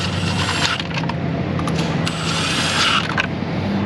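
An electric ratchet snugs up bolts in an auto repair shop, giving a steady mechanical whirring and clicking close by against a noisy shop background, with no talking.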